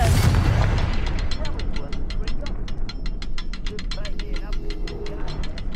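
A Confringo fire spell explodes in Hogwarts Legacy, a loud blast followed by a rapid ratcheting, clicking burst of repeated crackles that sustains throughout.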